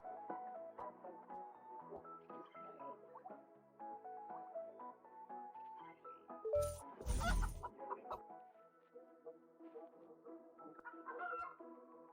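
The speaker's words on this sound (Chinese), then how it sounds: "是鸡，附近有鸡。" Hens clucking and a rooster calling in a rural village setting, steady and fairly close, with a louder burst of flapping or scuffling midway through.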